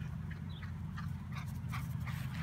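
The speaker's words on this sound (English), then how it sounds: "There's our dog." A dog in a house garage whimpers softly and pants in quick, faint breaths, close but quiet against a low background hum.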